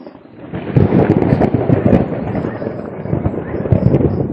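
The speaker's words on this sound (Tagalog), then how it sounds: "Kumukulog yung langit." Thunder rumbles loudly on a mountain in bad weather, a long, deep roll that swells and lingers for several seconds with no voices.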